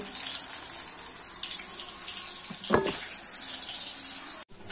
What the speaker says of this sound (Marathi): हे पहा आपली मिरची भजी तळत आहे